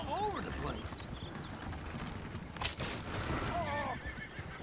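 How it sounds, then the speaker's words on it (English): Horses in Red Dead Redemption 2 whinny in wavering high calls at the start and again near the end, with hooves clip-clopping and a voice talking in the mix. "Horses! Damn horses!"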